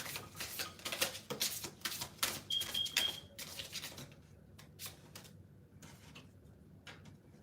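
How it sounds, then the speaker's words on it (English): Oracle cards are shuffled in quick, clicky, papery bursts that fade into softer scattered flicks as cards spill out. The sound is faint and close, with no talking. "Let's pull some oracle cards."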